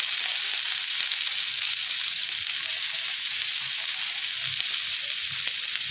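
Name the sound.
crushed garlic frying in hot oil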